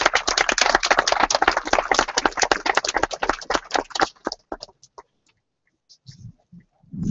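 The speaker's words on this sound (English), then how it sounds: "Let us give him a round of applause as he comes." At a monument dedication in Charleston, an outdoor crowd claps for the arriving mayor with quick, uneven clapping that fades out after about four seconds, leaving near silence and a few faint low sounds.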